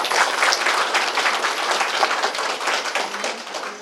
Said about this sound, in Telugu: అందరం కూడా చప్పట్లు కొట్టాలి